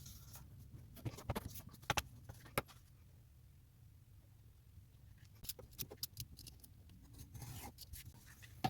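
Scissors cutting smooth packaging for a craft gift card holder: quiet, close snips and crisp clicks in short clusters, separated by faint rustling pauses.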